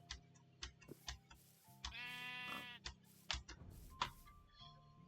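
A sheep in the video game Minecraft gives a drawn-out bleat, quiet and alone, set among scattered soft clicks and tick-like game sounds.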